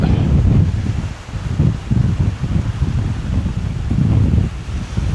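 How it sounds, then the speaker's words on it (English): Heavy wind on the River Mersey buffets the microphone in a continuous low roar with gusty surges, loud and close, no voices. "So it's really windy"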